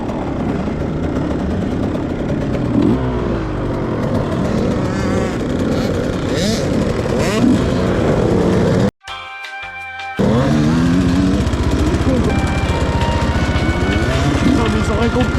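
Motocross motorcycle on a dirt track during a training course, its engine revving hard and accelerating down a straight, loud and continuous, with a brief cut-out midway before the roar returns; a voice talks over it.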